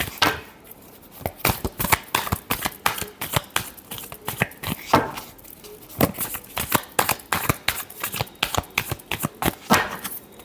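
Tarot cards being shuffled by hand, a rapid run of crisp papery riffles and slaps in an uneven rhythm, close and fairly clear, with no talking over it.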